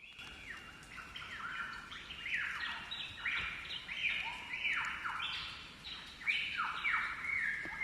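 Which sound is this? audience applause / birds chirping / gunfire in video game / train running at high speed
birds chirping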